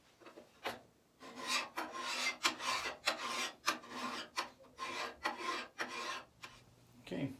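Steel file rasping along the edge of a draw knife during sharpening, with repeated close strokes in a steady back-and-forth rhythm, loud and alone.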